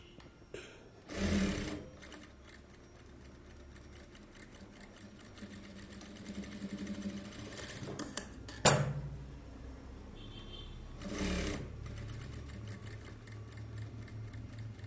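A sewing machine stitching the shoulder of an Aari work blouse in two short whirring bursts, separated by quiet handling, a sharp clack and faint metallic taps.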